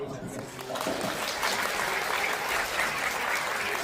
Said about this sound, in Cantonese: 咁我亦都俾啲掌聲